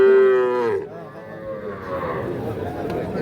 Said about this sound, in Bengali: এই যে দেখছি এগুলো সবই কিন্তু ষাঁড় বাছুর